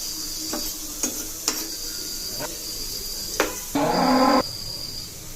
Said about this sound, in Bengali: এভাবে আমি সবগুলোকে ভেজে নেব।